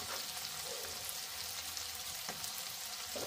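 Masala spices, turmeric among them, sizzling and frying in a pan for a drumstick curry, a continuous crackling hiss with a couple of sharper spits, close and fairly quiet.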